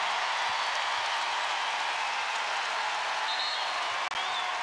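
Crowd noise fills a basketball arena at the Pete Maravich Assembly Center during an LSU vs. Rice game, a steady, dense wash of applause and cheering that holds at a constant level throughout.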